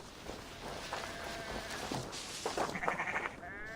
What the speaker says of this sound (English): The sheep miss you, Gunhilda.